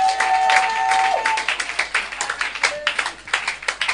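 A church congregation clapping along in fast, uneven rhythm, many hands together, with a sustained tone and a voice rising over the clapping.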